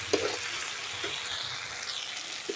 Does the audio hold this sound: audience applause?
no